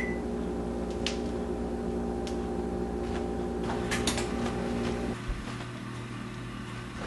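An oven being set to 375 degrees for preheating hums steadily with a few short beeps from its controls, and a drop in the hum near the end.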